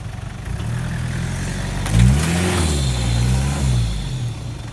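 A Toyota Hilux 4x4 engine drones loudly off-road in a forest, its revs rising and falling in pitch as the wheels spin, with a sharper surge about midway. Steady and close, with no voices.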